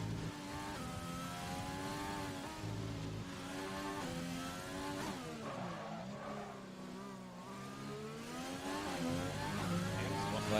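F1 2020 Formula 1 race car engine at the Vietnam circuit, a steady high-pitched whine with shifting revs as the car accelerates and changes gear, loud and continuous throughout with no talk.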